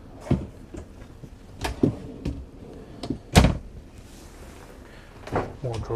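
Drawers and cabinet doors in a pre-owned 2018 Tiffin Allegro Open Road 36LA motorhome are slid open and shut, giving a series of sharp wooden knocks and thuds spaced irregularly, one louder bang near the middle, close by.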